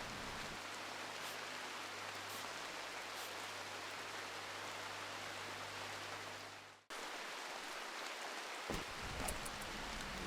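Steady rain hiss in a video game fills the scene with a low hum underneath, cutting out briefly before the downpour resumes with a few louder drips.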